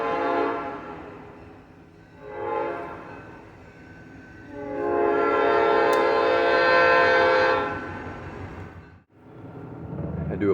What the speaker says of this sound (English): There's always a train when I try to